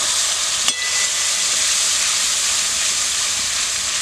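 Onion and tomato spice paste sizzles in a frying pan with a steady bright hiss, close and fairly loud, broken by one short clink near the start.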